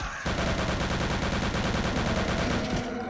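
Rapid automatic gunfire from the World War II shooter Return to Castle Wolfenstein, a loud continuous burst of shots firing steadily for about three seconds before cutting off, aimed at a mummy in a crypt.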